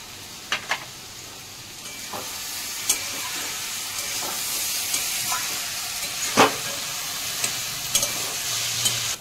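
Cumin, ginger and coriander pastes with Kashmiri chili powder fry in a pan for a banana-flower curry, giving a steady close sizzle and hiss with occasional sharp scrapes and clinks of stirring.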